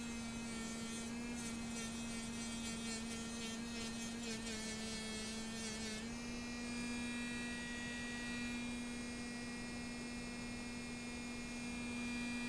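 Small Dremel Stylo+ rotary tool polishing, a steady high whine with an even hum that shifts pitch partway through, continuous and fairly faint, no voices.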